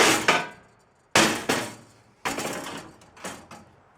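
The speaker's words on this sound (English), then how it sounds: "We have to get a smaller hammer. Tap that down a little bit" A hammer taps metal parts during a 2008 Honda Pilot engine swap: seven or so sharp, close strikes in uneven clusters, each ringing briefly before fading.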